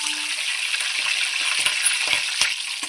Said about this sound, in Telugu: పచ్చిమిరపకాయలు వేగుతున్నాయి.